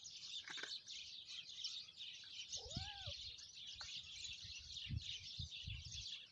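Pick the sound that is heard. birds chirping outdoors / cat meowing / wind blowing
birds chirping outdoors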